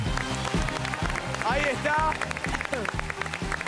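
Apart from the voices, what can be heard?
studio audience applause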